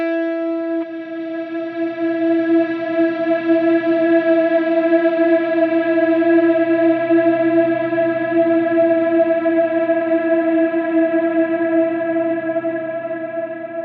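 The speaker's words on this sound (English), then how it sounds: "Particle verb, it's going to be much more atmospheric" Electric guitar run through a Line 6 Helix particle reverb, a sustained chord swelling into a dense, shimmering wash that hangs steadily loud for the whole stretch without fading.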